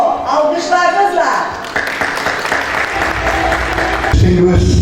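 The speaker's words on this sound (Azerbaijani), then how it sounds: "Alqışlarınızla." An audience at a corporate event applauds to welcome a speaker, a broad wash of clapping that runs steadily under an amplified voice and tonal sounds.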